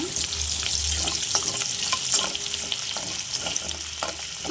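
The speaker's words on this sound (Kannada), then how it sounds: "ಇವಾಗ ಇದನ್ನು ಸ್ವಲ್ಪ ಫ್ರೈ ಮಾಡೋಣ" Chopped ginger sizzles in hot oil while being stirred for paneer fried rice, a steady close crackle with soft scraping strokes and a low hum underneath.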